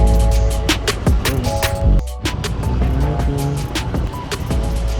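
A motorcycle being started at a roadside vehicle registration check in Marikina; a loud, close engine rumble with rattling clatter and brief surges that settles into a steady idle, with no talk.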